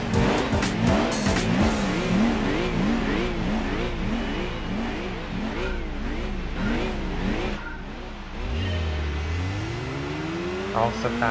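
A Honda Civic EK front-wheel-drive race car in Gran Turismo 4 pulls away at the start of a race, engines revving and wailing loudly in rising and falling pitch among other cars, with tire noise and a voice talking over it.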